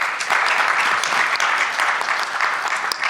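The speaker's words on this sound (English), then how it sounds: "round of applause if you played sports as a young person" A conference audience at SXSW EDU bursts into loud, dense applause, a sustained wash of many hands clapping at close range without pause.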